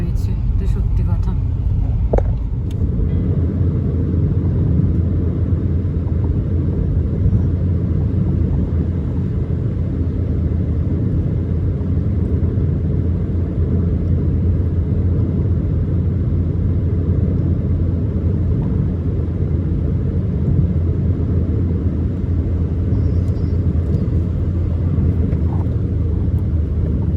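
Steady low rumble of a car driving along Old Delhi Road near Baidyabati, a continuous engine and road drone from inside the vehicle with a brief knock near the start and faint voices underneath.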